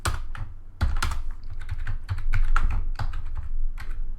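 Fast typing on a computer keyboard, close and crisp, with irregular bursts of key clicks and heavier thumps from larger keys, no voices.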